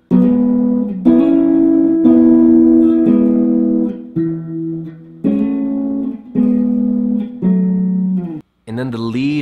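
A slow guitar run through the chords of a song, each chord struck and sustained, close and loud, with a voice briefly heard at the very end.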